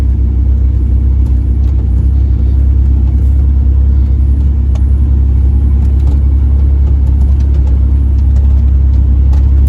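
A Ford F-150 pickup truck with a bent drive shaft and a blown transmission, crawling along slowly, gives a loud, steady, close engine rumble with a deep low drone that holds unbroken throughout.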